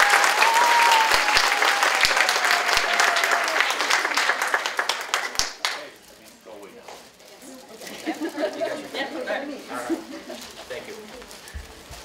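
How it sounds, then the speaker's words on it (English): An audience at a DARE graduation ceremony breaks into loud, sustained applause for about five seconds; it then fades into a murmur of scattered clapping and chatter. "let's give them another round of applause"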